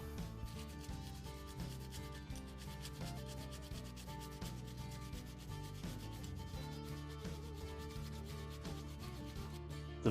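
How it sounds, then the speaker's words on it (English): Steady, continuous sanding rasps on without pause as hammer marks are smoothed out of a Bonney vise during restoration; the rubbing is close and even, with no voices. "I'm sanding out all the marks I made with the hammer."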